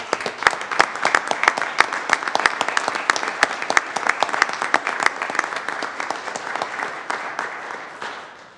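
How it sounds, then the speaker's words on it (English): Sustained applause fills a city council meeting chamber as attendees clap together in a dense, lively patter. It is loud and fairly close, then tapers toward the end. "let's give them one more round of applause"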